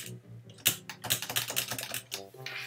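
Rapid, uneven keystrokes on a computer keyboard, loud and close, clattering in quick bursts with brief pauses between clusters.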